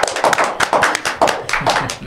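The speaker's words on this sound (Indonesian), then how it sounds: "Tepuk tangan dulu dong teman-teman." An audience at an Indonesian talk event claps, loud, sharp hand claps close by falling in a quick, uneven rhythm over about two seconds.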